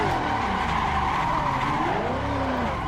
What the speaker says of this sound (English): You can really hear that supercharger whine too.